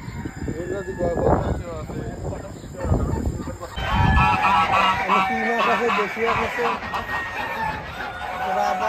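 Domestic and Chinese ducks honk at a busy poultry market, giving a loud, continuous, raucous chorus mixed with other fowl while people talk nearby.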